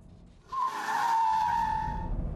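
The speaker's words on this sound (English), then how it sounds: "how beautifully the Subaru BRZ handles on curves" A Subaru BRZ sports car corners through curves with a sustained tire squeal lasting a couple of seconds, clear and fairly prominent over the low road rumble.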